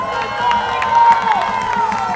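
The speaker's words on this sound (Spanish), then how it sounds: "Aplausos para la lista Cámara," A crowd at a political rally cheering and applauding for the candidate lists, a loud dense roar of voices and clapping with a sustained whistle-like tone running through it.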